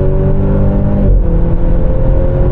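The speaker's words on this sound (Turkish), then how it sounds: "O egzozdan gelen ses de çok güzel." A Maserati Grecale with a 2.0L 300 hp engine accelerates hard, its exhaust giving a loud, close, sustained drone that briefly dips and then surges again.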